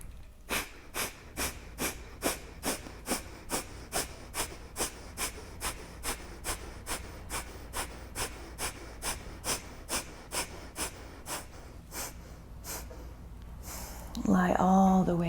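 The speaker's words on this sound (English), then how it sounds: "We'll do an invigorating Kapalbhati breath to end our practice. So we'll do a round of 25. Natural inhale, forceful exhalation." Kapalbhati yoga breathing, a long run of about two dozen sharp, forceful nasal exhalations in an even rhythm, close and distinct, ending with a deeper breath.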